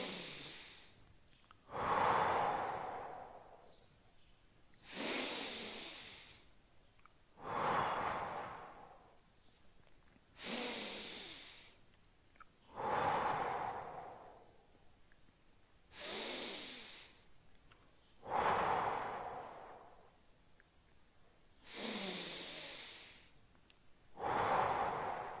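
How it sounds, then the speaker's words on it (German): Slow, deep belly breaths taken during a fitness stretch, roughly nine to ten audible inhale-exhale cycles in a steady rhythm, close to the microphone and fairly soft. "wir atmen fünfmal tief im Bauch"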